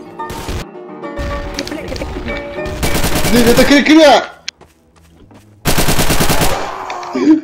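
Rapid automatic gunfire bursts from a Garry's Mod Trouble in Terrorist Town match, loud and close, with two long sustained volleys separated by gaps, a single sharp crack between them, and excited voices talking over the shooting.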